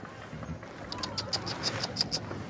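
Bird sounds outdoors: a series of short, high chirps repeating roughly evenly over a steady low background rumble.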